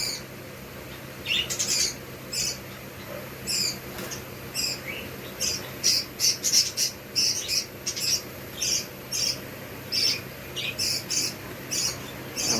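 Small pet birds at a pet shop chirp and squeak in quick bursts again and again, close and fairly loud, over a low steady hum.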